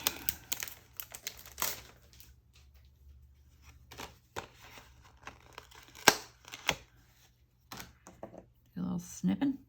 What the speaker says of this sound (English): we need to cut these dies apart